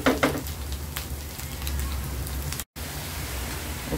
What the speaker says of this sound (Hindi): अभी मैंने इसमें कीमा डाल दिया है